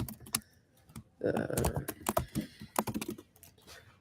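Typing code on a computer keyboard, with quick close clicks in irregular bursts and short pauses between them, while a person talks over the keystrokes.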